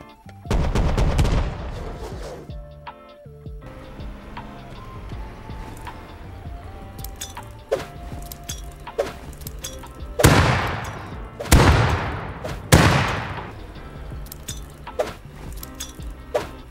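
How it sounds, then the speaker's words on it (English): Gunfire in the survival game Rust, a silenced weapon firing at the player: several sharp shots in quick bursts, with one early loud crack and a tight cluster between ten and thirteen seconds, over a low game ambience. "I was getting shot at by a silencer."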